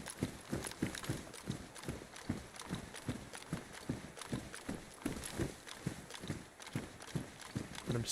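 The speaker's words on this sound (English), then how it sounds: "But I'm certain I heard footsteps." Steady, rapid footsteps in the survival video game DayZ, a continuous run of heavy thudding steps close by that carry on without pause from start to end.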